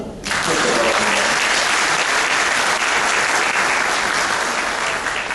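Steady, loud applause from an audience at a civil service law forum, thanking three presenters; dense clapping starts abruptly and continues unbroken throughout, with no other voices standing out.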